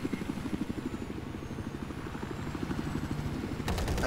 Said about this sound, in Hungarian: Már itt a Razoros helikopter is